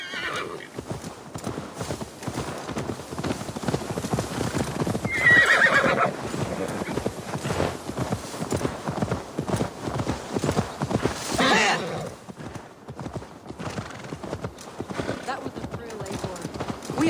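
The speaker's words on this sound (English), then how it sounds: "Now to deliver Magni his horse." In Assassin's Creed Valhalla, a steady clip-clop of horse hooves runs throughout, with a couple of loud neighs and whinnies rising above, while a voice talks over parts of it.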